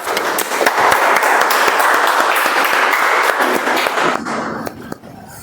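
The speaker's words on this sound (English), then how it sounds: "So let's give a big round of applause for Pawan again." A meeting audience gives a loud, sustained round of applause for a speaker, dense clapping that holds for several seconds before thinning into scattered claps.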